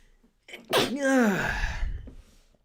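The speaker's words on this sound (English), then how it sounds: "Oh, I'm going to sneeze." A single loud, close sneeze with a sharp intake of breath before it, followed by a drawn-out, breathy tail.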